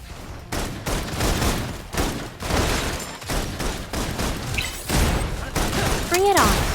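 Bursts of gunfire in the video game Love & Deepspace crackle in repeated rapid volleys, loud and close, with a short rising whistle-like tone near the end.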